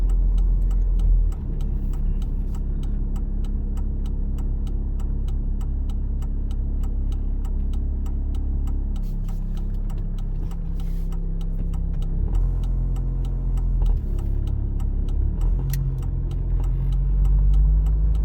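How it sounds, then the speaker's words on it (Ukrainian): A car's turn signal indicator ticks in a steady, regular rhythm during a right turn on a Ukrainian driving exam route, heard over the continuous low rumble of the engine and road noise inside the cabin. "тут ми вмикаємо правий покажчик повороту"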